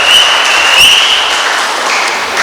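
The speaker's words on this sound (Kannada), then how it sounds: "ಚಪ್ಪಾಳೆ ಮೂಲಕ ನೀವು ಸಮ್ಮತಿಯನ್ನು ಸೂಚಿಸಿದ್ದೀರಿ" A crowd at a Puttila Parivara public meeting claps in dense, sustained applause, loud and close, holding steady for the whole stretch with no one speaking over it.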